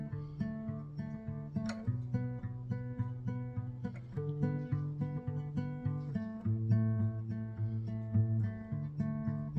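Steady guitar picking pattern moving through a chord progression, plucked notes repeating in an even rhythm with chord changes every couple of seconds, no voices.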